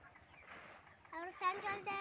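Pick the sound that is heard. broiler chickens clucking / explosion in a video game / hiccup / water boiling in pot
broiler chickens clucking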